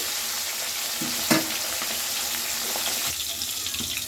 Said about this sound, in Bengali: এবার মাছটা দেখি এক পিঠে ভাজা হয়ে গেছে আমি এইভাবে আরও এক পিঠ উল্টে দিচ্ছি